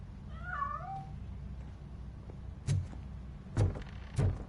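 A cat escaping in the video game RoboCop: Rogue City makes one soft wavering meow, followed by three sharp thumps of movement spaced about a second apart over a low background hum.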